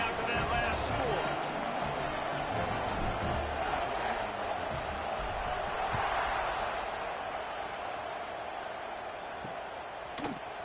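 Dense, steady roar of a large football stadium crowd in a college football game just after a touchdown and extra point, a continuous distant buzz with faint scattered thuds and no clear speech on top.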